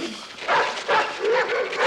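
A dog gives a few excited yelping barks and whines close by, loud and in short bursts.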